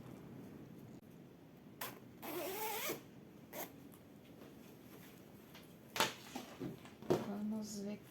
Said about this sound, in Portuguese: Vou fechar o meu zíper.